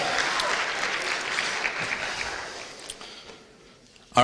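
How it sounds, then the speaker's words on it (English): Audience clapping at a school student council debate, steady and fairly loud at first, then tapering off to scattered claps over a few seconds. "let's give them a loud round of applause, please"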